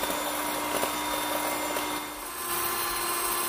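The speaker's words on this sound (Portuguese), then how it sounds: "Vou com a batedeira bater até dar o ponto." An electric hand mixer whirs steadily at close range as it whips Dr. Oetker Chantilly powder with cold milk, a constant motor drone that dips briefly and then resumes.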